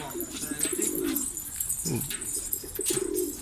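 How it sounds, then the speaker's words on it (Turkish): A loose bird flies near a rooftop while pigeon-like coos and soft wing flaps come and go, heard fairly close amid outdoor ambience. "böyle kuş uçuyor herhalde"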